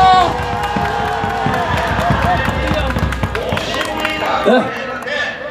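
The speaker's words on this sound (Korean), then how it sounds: "김병준 교수님께 열렬한 박수 부탁드리겠습니다" Applause at an outdoor political rally, dense rhythmic clapping from a large crowd with cheering, and a raised voice briefly cutting in near the end.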